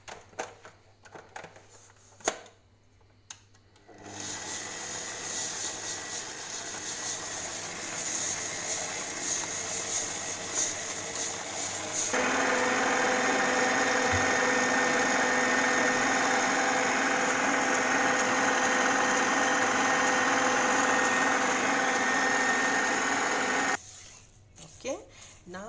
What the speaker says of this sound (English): we are going to mix it until the mixture is white and fluffy and almost doubled in size